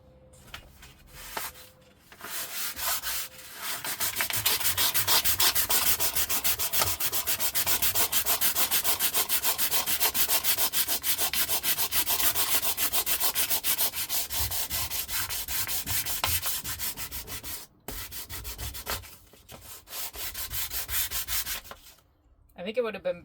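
Continuous hand sanding of a truck camper countertop, a rough rhythmic scraping of abrasive paper rubbing back and forth on a hard surface, close and loud with brief pauses.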